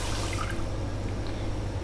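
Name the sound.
water being poured into a pot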